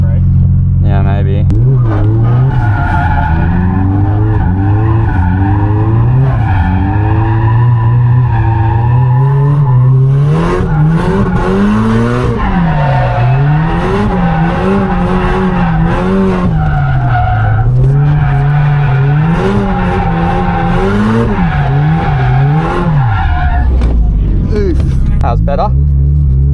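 A 450hp Nissan S15 drifting, with loud sustained tire skidding and a rising and falling engine roar throughout, close and intense, as people talk over it.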